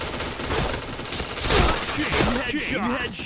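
Rapid bursts of APC9 submachine gun fire in the shooter game Point Blank, loud and close, with a voice talking over the shots.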